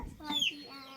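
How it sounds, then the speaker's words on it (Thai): Chickens that have come up into a rural Thai stilt house cluck close by, with one brief sharp call in the middle and faint household sounds and a quiet voice around them. "ไก่ขึ้นเฮือน"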